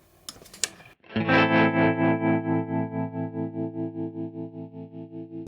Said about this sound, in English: adding a little bit of tremolo.